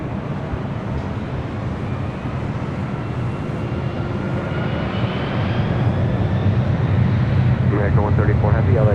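Delta Boeing 767-300ER, 26 years old, taking off on runway 24 left at LAX at night, a steady loud jet engine roar that swells gradually, with a radio voice breaking in briefly near the end.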